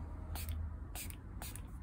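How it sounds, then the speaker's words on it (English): A spray bottle mists water onto a watercolor painting of an evening river scene, three short hissing bursts spaced evenly apart, close and fairly soft, with no talking. "Okay, and spray again."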